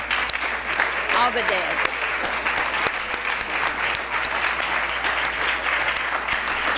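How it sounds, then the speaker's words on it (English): An audience at an athletics hall of honor induction ceremony applauds fathers with steady, dense clapping throughout, while a voice speaks briefly over it. "Let's give you a round of applause."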